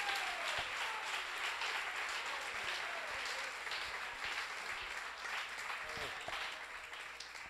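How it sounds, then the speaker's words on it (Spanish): A church congregation at a Sunday evening service in Barquisimeto, Venezuela claps together in sustained, fairly distant applause with scattered individual claps standing out. "Un aplauso."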